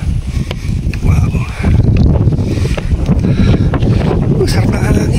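Strong wind buffets the microphone during a boat ride off Dingalan, Aurora, a constant close roar with low-end rumble throughout.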